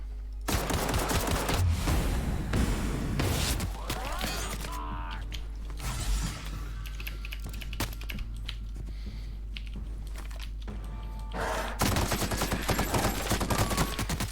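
Rapid bursts of gunfire in the sci-fi video game The Outer Worlds: dense, loud volleys in the first few seconds and again near the end, with quieter stretches between and steady computer-keyboard clicking underneath.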